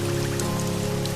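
Rain falls steadily near a waterfall, a dense even patter on surfaces with a continuous hiss and a faint underlying hum, loud and close with no voices.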